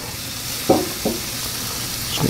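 Beef tenderloin basted with Worcestershire sizzles steadily as it sears in a hot pan, a close, continuous hiss with a few brief clinks or stirring taps over it.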